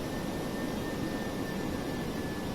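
A DC-8-73F cargo jet in Flight Simulator X sits on the runway with its engines giving a steady, even roar and a thin constant whine, and no voices.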